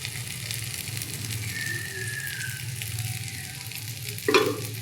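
Ginger and potatoes fry in a pan as turmeric powder goes in, a steady close sizzle with stirring scrapes and a sharper clatter of utensil against pan near the end.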